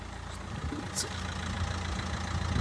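A Nissan Qashqai 1.5 dCi K9K diesel engine idles steadily, a low continuous rumble with a faint rattle, close by and moderately quiet throughout.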